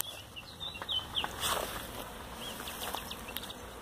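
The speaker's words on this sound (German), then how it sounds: "Da sind meine Bienen." Honeybees swarm around a hive at an outdoor apiary, producing a steady, dense buzz of many wings with individual bees zipping past close by.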